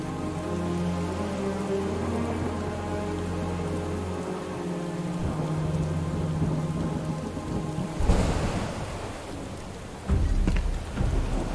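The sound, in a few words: heavy rain in a video game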